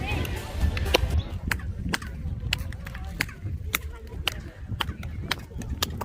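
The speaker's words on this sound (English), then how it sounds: "apparently if you clap, it makes a weird echo" Sharp hand claps ring out one after another at an irregular pace in front of the ancient pyramid at Chichen Itza, Mexico, each followed by a brief chirping echo, over a murmur of crowd noise.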